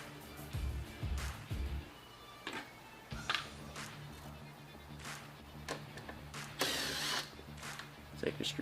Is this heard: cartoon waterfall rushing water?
no